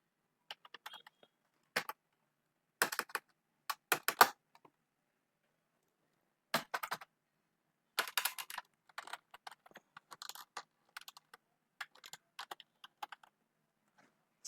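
Typing an account number on a computer keyboard, heard as short bursts of key clicks separated by pauses, close and clear in a quiet room.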